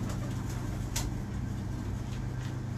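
Pigeon cooing in a pigeon keeper's loft, a soft low repeated coo with steady rhythm over continuous background hum.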